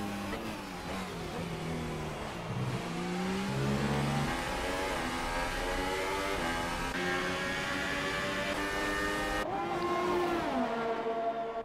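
Formula 1 cars race in an Xbox game at the Australian Grand Prix, one car tucked into another's slipstream on a DRS straight; a continuous loud engine whine rises and falls in pitch, with a sharp gear change near the end.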